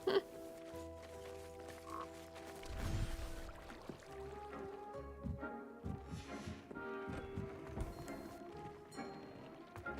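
A toad croaks in Hogwarts Legacy, repeated low croaks and soft thuds mixed with steady game music throughout.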